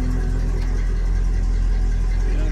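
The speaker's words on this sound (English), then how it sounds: "Flowmaster style muffler under it," A 1973 Mercury Cougar XR7 with a Flowmaster-style muffler idles with a deep, steady exhaust rumble that holds evenly throughout.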